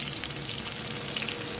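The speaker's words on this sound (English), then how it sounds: "Now stir that up nicely." Spaghetti with anchovies and cherry tomatoes sizzles and fries in a pan while being stirred, a steady close hiss with soft scraping, and no one talking.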